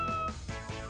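A cat in a video game meows in two or three short, tonal cries close up, with no talk over them.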